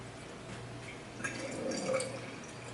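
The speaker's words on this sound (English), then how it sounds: "And then pour this in." Water kefir poured into a bottle, a soft, close trickle and splash that builds toward the end of the short pour, with a steady low hum in the background.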